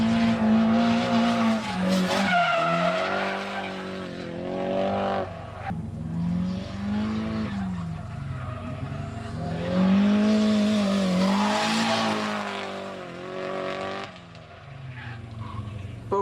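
Drift cars skid around a drift event course, engines revving high with long rising and falling pitch sweeps and continuous tire squeal, loud and close for the whole stretch.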